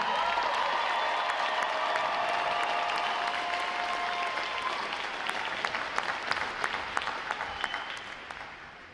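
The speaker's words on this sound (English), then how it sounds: "How about a round of applause for that?" A large audience at a U.S. Navy boot camp graduation bursts into sustained applause for the sailors, dense and loud at first, then thinning slightly with scattered sharper claps toward the end.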